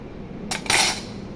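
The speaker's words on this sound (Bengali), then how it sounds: "এটা হচ্ছে ফর্ক, ফর্ক হচ্ছে কাঁটা চামচ।" A metal fork and other cutlery are handled, giving two quick bright clinks in close succession, followed by quiet.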